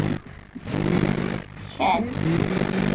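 An offroad crew cab truck drives in the video game BeamNG Drive, its engine revving and surging in waves with a short high whine, while someone talks over it.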